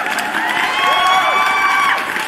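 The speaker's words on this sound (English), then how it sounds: "let me get a round of applause real quick." Soundboard effect of a crowd cheering and whooping, played during a live cryptocurrency news stream; a short, bright burst of whistles and shouts at steady volume, with no talk.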